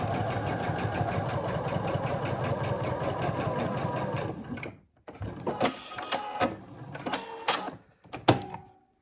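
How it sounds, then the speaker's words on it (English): A sewing machine stitches quilt fabric in a fast, even mechanical chatter. It runs steadily for about four seconds, then stops, and is followed by short bursts of handling clicks and rustles. "Let the machine do the work and stitch."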